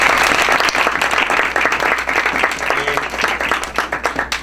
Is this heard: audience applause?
yes